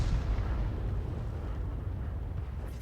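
A 105 leFH18B2 howitzer fires in a tank video game, one deep booming blast that rumbles out over nearly three seconds.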